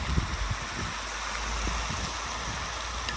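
Water poured into a pan over fried carrots, onion and meat for plov, giving a soft, steady rushing splash with faint crackle, fairly quiet and without voices.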